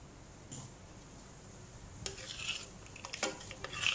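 A spoon stirs ground coconut into chicken curry in a metal pot. Quiet scraping and clinking sounds are scattered through the clip, growing busier toward the end. Nobody speaks.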